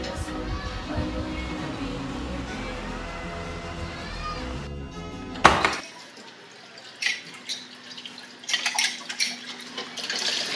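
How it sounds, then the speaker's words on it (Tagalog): A weak, thin stream of water runs from a tap, with faint dripping and splashing and occasional clinks of dishes. It follows a stretch of louder music and a sharp burst. "Ang hina na naman ng tubig."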